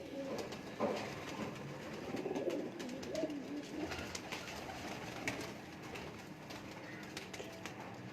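Pure Jura pigeons coo in low, soft rolling calls, several overlapping near the start, then a quieter stretch of faint coos and rustling in the loft.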